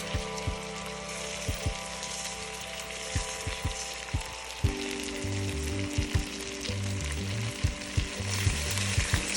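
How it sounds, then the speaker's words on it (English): Jasmine rice sautéing in a pot for Filipino lugaw, a continuous close sizzle with frequent sharp stirring clicks, while a low humming tone plays throughout and nobody speaks. "Saute the rice."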